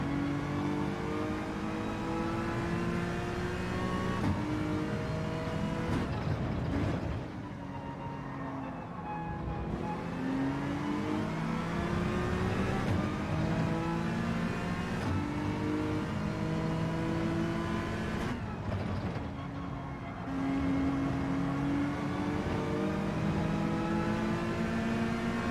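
A racing car in Gran Turismo 7 revs hard and accelerates, engine pitch climbing repeatedly through the gears, with two short lifts off the throttle before it surges again, loud and continuous.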